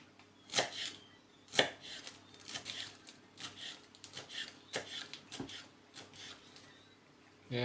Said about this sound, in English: I just fold it up and then just cut it as thin as possible.